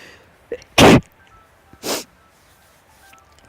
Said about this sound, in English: Can't imagine why somebody might sneeze in a forest like this.